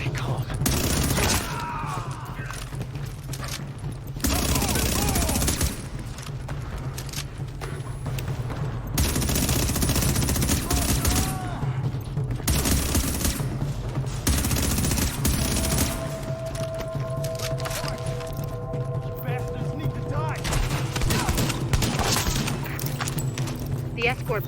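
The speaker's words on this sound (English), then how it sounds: "The escort party's taking heavy fire from the roof." Heavy gunfire from a rooftop gunner in The Division: dense, sustained bursts of shooting that swell and ease over a constant low rumble, with voices talking throughout.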